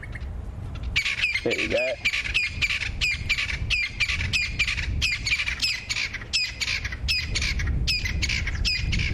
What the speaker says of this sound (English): This crested francolin were calling to their heart's content, being very loud next to the road.